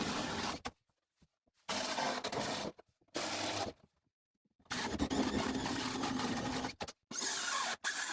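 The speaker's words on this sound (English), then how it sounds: "I'm going to start by drilling out some circles here in the corners" A power drill whirs in several bursts while drilling circular holes into wood, some short and some long, separated by silence, close and loud.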